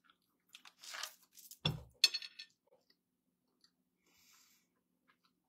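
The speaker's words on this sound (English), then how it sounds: "So you guys just keep eating while I finish chewing this." Someone chews a peppermint patty from CVS inside a car, giving a few close, crunchy bites and mouth sounds in short bursts, then near silence.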